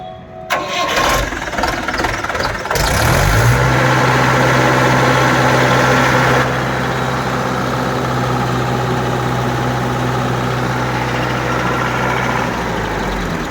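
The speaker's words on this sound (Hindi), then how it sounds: "इसकी भी आवाज़ सुनो जी।" Second-hand 2014 MKM tractor engine cranking and starting with a clatter, then settling into a loud, steady diesel idle that continues close by to the end.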